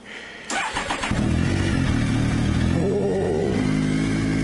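A Triumph Tiger 955i motorcycle, left abandoned for three years, cranks briefly with a rattling starter whirr, then catches and settles into a loud, steady idle close by.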